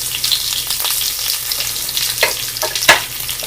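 Mustard seeds, cumin, green chilli, curry leaves and onion sauté in hot oil for ridge gourd bassaru, with a steady close frying hiss broken by a few scraping stir strokes and light clinks.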